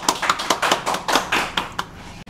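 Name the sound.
audience applause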